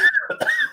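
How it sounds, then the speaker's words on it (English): A single close, harsh cough with a rough throat-clearing quality, short and abrupt. "we hear you coughing over it"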